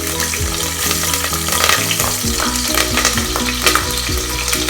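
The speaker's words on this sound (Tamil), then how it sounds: "எண்ணெய் சூடாச்சு. ஃபர்ஸ்ட் வந்து க்ரீன் சில்லிஸ் ஆட் பண்ண போகிறேன்." Green chillies frying in hot oil in a home kitchen for a veg khurma, a steady loud sizzle with stirring clatter running throughout, close and without speech.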